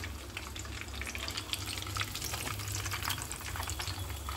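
Pieces of chicken bread fry in hot oil, a steady, close crackling sizzle with dense spattering pops running throughout and no voices.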